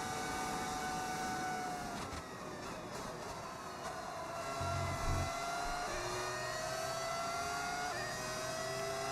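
Modded engine note of a Formula 1 race car in the F1 26 racing game, a steady high whine with rising and falling pitch as gears shift, heard alone without talk.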